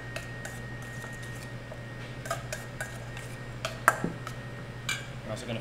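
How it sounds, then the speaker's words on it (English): Tuna poke being stirred with white soy, wasabi powder and ginger in a bowl, a steady series of light clinks and soft wet taps of utensil against dish, with a sharper clack near the middle over a low hum. "We're gonna mix that up."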